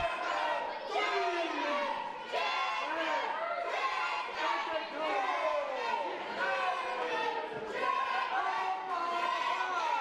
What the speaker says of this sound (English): A very loud and raucous crowd here, as you can tell.